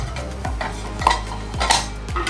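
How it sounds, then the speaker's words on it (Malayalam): Metal clanks and scrapes of a chicken biryani pot lid being handled as the rice boils, several sharp clinks spaced about half a second apart, close and clear with no talking. "നമുക്ക് റൈസിൻ്റെ പാത്രം ഒന്ന് തുറന്നു നോക്കാം"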